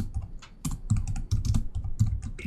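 Computer keyboard keys clatter in quick, uneven bursts while a command is typed to install a software framework, close and clear with no talk.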